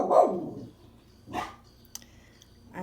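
A dog barks a few times from a quiet street setting. The barks are spaced apart, fairly faint and somewhat distant, with no speech.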